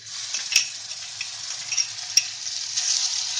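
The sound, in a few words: cumin and garlic ginger paste frying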